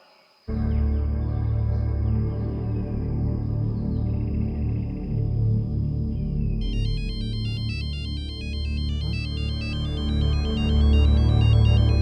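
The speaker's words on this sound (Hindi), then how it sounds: "अरे वो तो स्नेहा फोन है" A phone ringtone plays steadily for several seconds, then a brighter electronic melody joins in over continuous background sound.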